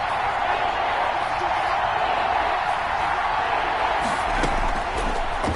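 Stadium crowd in an American football video game, a steady broad roar of noise with a few thumps near the end, under a commentator's talk.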